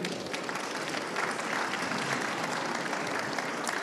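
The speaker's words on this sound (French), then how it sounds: "On peut les applaudir." An audience at a French conference on home-based care applauds warmly, a dense, steady clapping that carries through the whole stretch with no talk over it.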